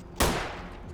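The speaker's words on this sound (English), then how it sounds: "Gunshots. People are having violent fun times." A sharp gunshot burst in Vampire: The Masquerade – Bloodlines, one loud broadband crack that decays into a lingering rumble, standing alone without talk.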